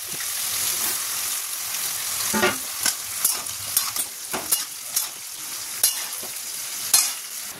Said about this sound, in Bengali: এই যে চিংড়ি মাছটা ভাজা হয়ে গেছে। এবার এর মধ্যে লাউটা দিয়ে দেবো।